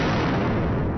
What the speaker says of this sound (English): He just blew my barrel.